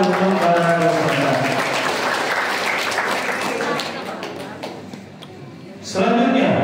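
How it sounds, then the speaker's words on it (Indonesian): Loud audience applause for contestants at an Islamic quiz competition final fills most of the clip, fading toward the end before a voice starts speaking. "Penonton berikan tepuk tangan untuk para peserta."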